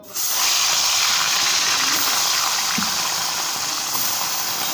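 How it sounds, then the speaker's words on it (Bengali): Bata fish frying in hot oil in a wok, a loud continuous hiss that begins abruptly and holds steady throughout, close and with no talking. "কড়াইতে একটু তেল মাছগুলো সব ভেজে নেবো"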